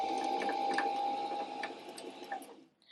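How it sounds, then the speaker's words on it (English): A sewing machine winding a bobbin runs steadily with a continuous whirring hum and faint rhythmic ticking, then slows and stops near the end. "we can go ahead and turn our sewing machine on"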